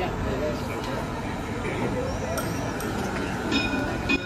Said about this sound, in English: It makes the sound of a tram.